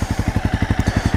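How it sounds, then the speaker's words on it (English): A 2015 Honda CBR 300R motorcycle idling in neutral, its engine giving a close, loud, regular low thumping pulse of about a dozen even beats in just over a second, alone with no talk. "So that's idle."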